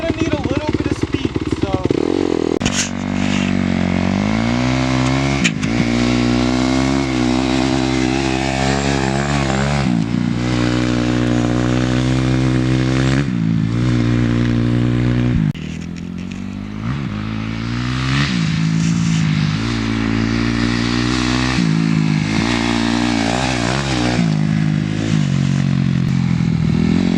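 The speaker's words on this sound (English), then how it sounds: "So, start your bike up." Dirt bike engine running steadily while being ridden, a loud continuous harmonic drone with shifting pitch as the throttle rises and falls over roughly half a minute, heard close up with some clatter and no clear talk.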